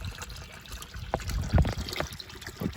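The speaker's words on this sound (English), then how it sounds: "the valve seems to be flushing full and getting plugged up with freshwater shrimp" Water trickles and gurgles steadily from an automatic valve into a winter cattle trough that is getting plugged with freshwater shrimp, with a few louder splashes along the way.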